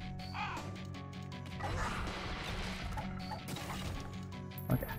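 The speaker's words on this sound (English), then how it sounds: "Fucking crows, man." Crow caws from the video game The Binding of Isaac: Repentance (modded), harsh cawing mixed with crashing, smashing combat effects and a sharp hit near the end, loud and busy throughout.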